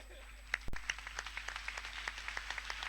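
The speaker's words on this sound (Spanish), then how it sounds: "Les aplaudimos" At a church service, a small congregation claps in a faint, scattered way to welcome a pastor and another speaker, with distinct individual claps rather than a dense roar.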